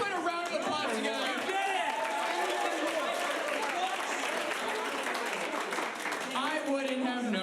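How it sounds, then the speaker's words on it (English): Audience applause and cheering at a Friday night fights event, a dense, steady wash of clapping and crowd noise filling the whole stretch, with voices mixed into the din. "let's put a round of applause together."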